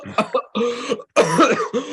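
A man bursts into a harsh coughing fit after taking too big a hit from a smoking pipe: several close, rough coughs in quick succession with a brief gap in the middle.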